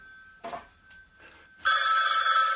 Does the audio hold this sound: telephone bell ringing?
yes